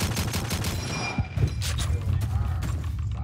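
M1 Garand rifle fire in the Call of Duty 2 video game, a dense fusillade of overlapping shots and thuds from a busy battlefield, with a few sharp near reports standing out around the middle.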